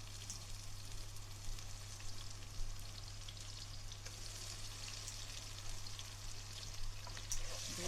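Ginger garlic paste sizzles with golden fried onions in a pan while palak paneer is cooked. A steady, fairly quiet frying hiss runs throughout with no talking, alongside a faint low hum.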